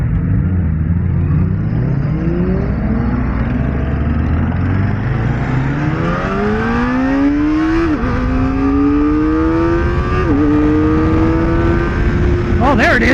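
A Kawasaki Ninja ZX-4RR engine revs hard and climbs toward 13,000 rpm through the gears, its high whine rising steeply with two brief dips at shifts, loud and close throughout.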